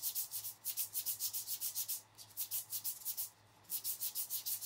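Rapid back-and-forth rubbing of a reed with very light abrasive, quick regular scratchy strokes in close bursts separated by short pauses, nearby and with no speech.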